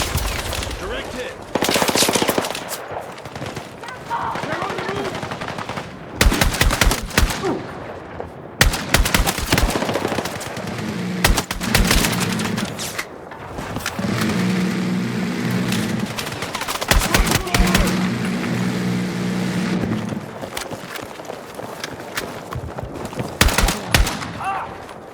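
Machine gun fire in the Battlefield 6 campaign, loud bursts of rapid shots broken by brief lulls and single cracks, mixed with battle noise and rumbling engines over about twenty-five seconds.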